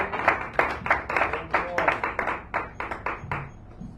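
Light applause from a small audience at a San Francisco cafe poetry reading, a handful of hands clapping in an uneven, loose rhythm that thins out and fades near the end.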